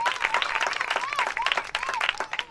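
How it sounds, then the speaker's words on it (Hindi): An audience at a church gathering applauds loudly with dense, continuous clapping, while a warbling tone and some voices run through the crowd noise. "जोरदार ताली बजाएं"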